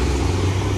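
A car rolls up to a family waiting outside, bringing girls home from summer camp. Its engine gives a steady, low, close hum for under a second, with no voices over it.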